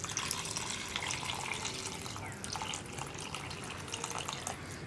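Boiled water, about one and a half cups, poured into a gooseberry pickle mixture in a kitchen; a steady splashing, trickling pour running continuously and close, with no talk.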